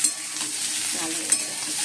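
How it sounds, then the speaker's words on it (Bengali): Onion and potato pieces fry in a pan of oil, giving a steady broadband hiss and crackle with a couple of faint clinks, close and moderately loud, with no talking. "আলুটাও দিয়ে দিলাম, আলুটা একটু ভাজতে ভাজতে পেঁয়াজটা হয়ে যাবে"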